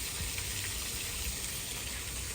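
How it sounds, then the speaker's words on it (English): A small outdoor waterfall in Japan gives a steady, even rush of flowing water, a faint continuous hiss with no talk over it. "we heard some noise and like it's a waterfall."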